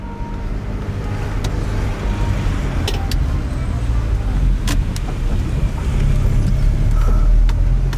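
A lowered Volkswagen Saveiro pickup rolls by outdoors, its steady engine and road rumble holding loud and close throughout, with a few sharp clicks and knocks breaking through and the sound swelling toward the end.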